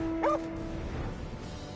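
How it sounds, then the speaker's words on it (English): A dog in the video game Final Fantasy XIV gives a short yelping bark, brief and somewhat distant over a steady ambient game background. "I heard a dog."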